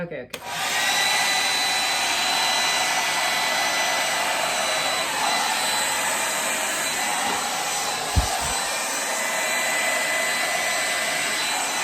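Hair dryer blowing steadily on thick acrylic paint poured for fluid art, a loud continuous whooshing airflow that runs nearly the whole time, with a brief knock near the end.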